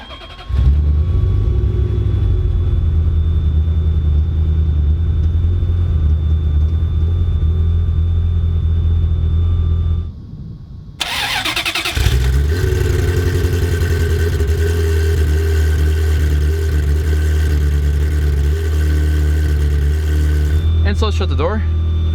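A 1995 Ferrari F355 Spider with a six-speed manual, idling with a steady loud rumble, cut briefly, then restarted with a crank, a sharp rev and a settled idle, close to the car.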